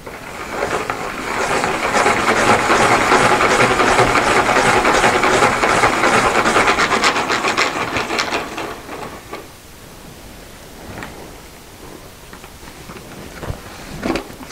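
A spinner turns a tile for spin art paint pouring, giving a loud, steady whirring hiss for about eight seconds that then winds down, leaving quiet handling noises and a few small knocks.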